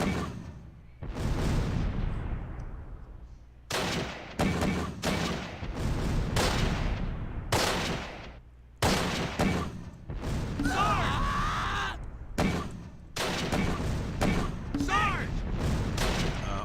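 Mortar and gunfire from the World War II strategy game Close Combat: a steady run of booms and blasts in bursts, with brief gaps and some crackling debris, under a continuous battlefield din.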